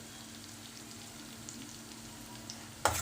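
Finely chopped onion sautéing in a pan, a steady soft sizzle with a low hum beneath and no talk, ending in a sharp louder clatter.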